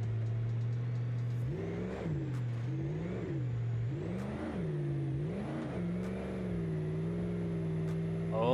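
A Ford F-250 pickup engine in the driving game BeamNG.drive revs up and drops back in several rising and falling pulls over a steady idle drone, close and loud with no talking.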